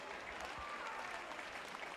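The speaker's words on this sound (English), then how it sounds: "give them a round of applause" A crowd applauds after a heat at a regional racing event, steady dense clapping throughout, moderately distant, with some talking mixed underneath.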